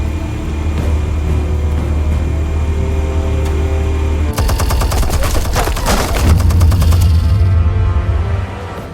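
Loud, rapid automatic gunfire erupts midway through a scene in The Last of Us video game. The dense rattling bursts cut in over a steady low droning hum that fills the whole stretch.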